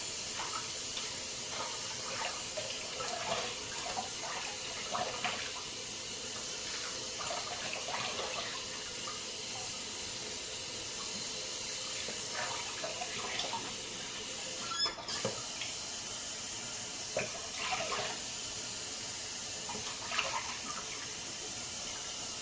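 A bathroom tap runs steadily into a sink while someone rinses their face after a shave, giving a faint, constant water hiss with soft intermittent splashes and one sharp knock partway through.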